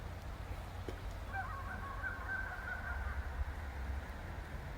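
Geese honk and call from some distance during a goose hunt, a few faint, scattered honks over a low steady background rumble.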